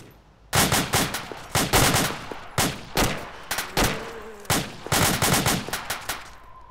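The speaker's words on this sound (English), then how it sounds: "One shot, one kill." Gunfire in the video game Arma rings out in rapid bursts of sharp, loud shots, repeated several times with short pauses between volleys, close and alone.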